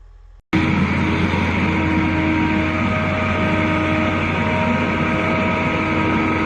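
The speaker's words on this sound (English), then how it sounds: "Watch the Timber Pro TL735C in action, armed with a Quadco hot saw." A Timber Pro TL735C forestry machine with a Quadco hot saw starts up abruptly into a loud, steady mechanical drone with a humming tone that holds without a break, with no voices.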